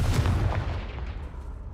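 Confringo explosive spell blast in the video game Hogwarts Legacy, a loud booming burst with rumbling low end that fades into a decaying roar.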